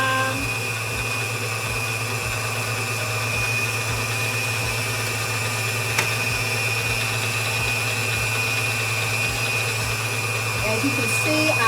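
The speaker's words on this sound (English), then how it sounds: "And I also turn my mixer down a little bit too." A stand mixer with a bowl guard beats sour cream pound cake batter as flour is added, giving a steady, even motor hum with a faint rhythmic pulse that carries on alone.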